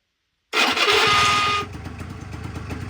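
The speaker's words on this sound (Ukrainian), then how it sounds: "Ну і пробуємо запустити стартера" A Honda Dio 100cc scooter's electric starter bursts into loud, harsh cranking for about a second, then drops to a rougher, quieter churning as the engine turns over without catching.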